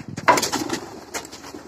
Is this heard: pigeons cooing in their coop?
yes